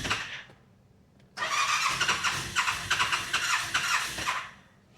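A Yamaha RMAX4 side-by-side with its exhaust blocked cranks on the starter, a rapid pulsing whir that churns for several seconds and then fades without the engine catching, after a brief earlier burst.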